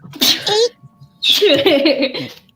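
Two close, forceful sneezes in quick succession, the second longer and more drawn out.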